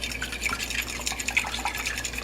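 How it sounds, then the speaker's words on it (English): A batter of egg and a touch of club soda is whisked in a bowl for chicken cordon bleu, a quick soft wet ticking and swishing rhythm, fairly faint and close, with no voices. "Just whisk it up."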